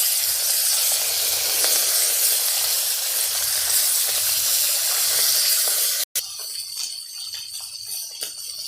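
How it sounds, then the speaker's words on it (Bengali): Rohu fish pieces coated in turmeric and salt frying in hot oil, a loud, steady sizzle and hiss that fills the first six seconds, then cuts out abruptly and continues as a quieter crackle. "বাকি লবণ হলুদ মাখানো মাছগুলোও ভেজে নেব।"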